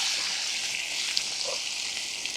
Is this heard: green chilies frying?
yes